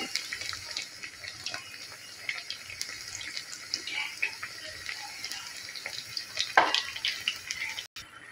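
Masala pitha cakes frying in a pan of oil, a steady soft bubbling sizzle with scattered crackles running throughout, fairly quiet and close, no talking.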